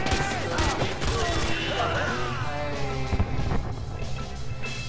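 Rapid bursts of gunfire from a gun mounted under a vehicle's dashboard in Far Cry 4, loud and continuous over engine rumble, music and wind noise.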